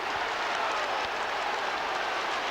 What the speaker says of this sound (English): The crowd off their seats